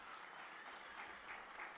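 Audience applause at a Tamil-language motivational talk: a steady, even wash of clapping from a crowd, fairly faint, with no other sound over it.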